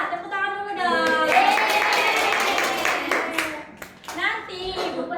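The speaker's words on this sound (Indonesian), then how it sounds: "Tepuk tangan dulu dong." A third-grade class of children claps together in a burst of applause in a classroom, with children's voices and a teacher talking over and after the clapping.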